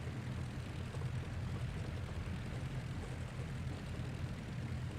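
Engines of a Gotha G.V twin-engine bomber in flight, loaded with 350 kg of bombs and full fuel, make a steady, dense, rumbling drone that stays loud and unbroken throughout with no voices.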